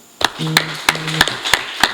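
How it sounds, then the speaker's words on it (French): An audience claps for volunteer organizers at the 2021 African programming championship (ACPC), a few crisp, evenly spaced claps ringing out close and loud in a steady rhythm. "je vous prie de les applaudir"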